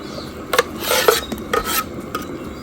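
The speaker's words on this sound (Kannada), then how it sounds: "ಇಲ್ಲಿ ಕೊಕೊನಟ್ ಗ್ರೈಂಡ್ ಮಾಡಿ ನಾನು ಹಾಕ್ತಾ ಇದ್ದೀನಿ" Ground coconut paste being scraped and stirred into a pot of mutton gravy, with a few clinks of a metal spoon against the vessel and soft wet rubbing, close by and fairly quiet.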